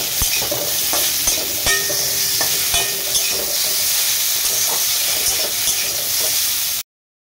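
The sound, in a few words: boiled elephant apple stirred and frying in hot oil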